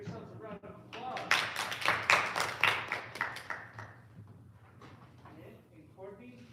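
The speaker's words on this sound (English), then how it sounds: "give yourselves a round of applause." Applause from a school audience at a grade 6 spelling bee, clapping building into a dense burst and fading away over a few seconds, with voices mixed in.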